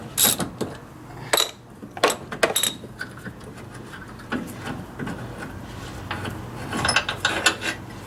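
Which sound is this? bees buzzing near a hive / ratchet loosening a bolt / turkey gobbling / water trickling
ratchet loosening a bolt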